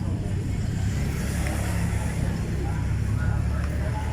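A Honda TMX motorcycle, loaded with sacks of rice, runs with a steady, close engine drone that holds an even low rumble throughout, with no break in the sound.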